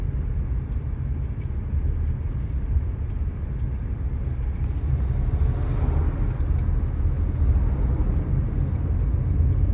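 A car driven on a road during a driving lesson in Alappuzha, a steady low rumble of engine and tyres filling the cabin, growing slightly stronger as it gathers speed, with no voices.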